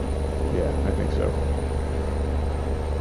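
A DAF truck with an open exhaust pipe in American Truck Simulator gives a steady, loud, low engine drone that runs through the whole clip, with faint speech-like sounds over it.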